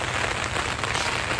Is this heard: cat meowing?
no